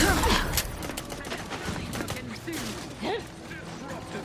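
Gunfire in the video game Outer Worlds 2: sharp shots crack out loudly at the start, then thinner scattered pops continue under in-game voices and combat noise.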